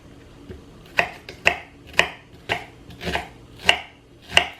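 A kitchen knife mincing shallots on a cutting board: about eight crisp, evenly paced chops, close and distinct, with no talking.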